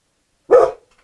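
A single short, loud dog bark close by, standing alone against silence.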